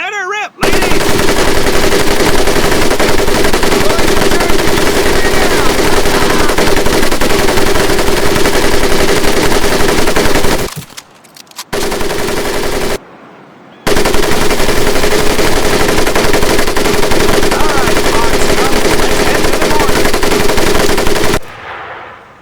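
A mounted machine gun fires in long sustained bursts on a training range in the video game Medal of Honor Pacific Assault, loud rapid rattling that runs for about ten seconds, pauses briefly twice, then roars on until cutting off.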